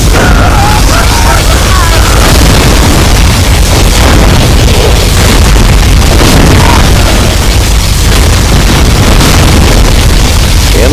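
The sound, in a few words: particle cannon blast in video game C&C Zero Hour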